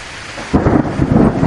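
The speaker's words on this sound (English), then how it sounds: "Please enjoy these stories with thunderstorm sounds" Thunderstorm with a sudden loud, close crack of thunder breaking into a heavy rolling rumble over steady rain hiss.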